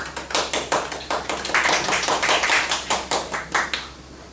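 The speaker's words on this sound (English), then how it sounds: "Let us welcome him with a round of applause." A conference audience applauds to welcome a presenter to the stage, with steady, fairly close clapping that swells and then fades out, no voices heard.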